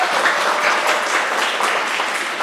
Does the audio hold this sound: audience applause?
yes